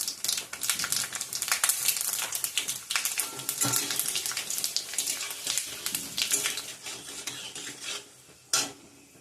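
Panch phoron spices fry in oil for a sweet-sour olive pickle, giving a dense crackling sizzle close up that thins out toward the end, with one final sharp clink near the close.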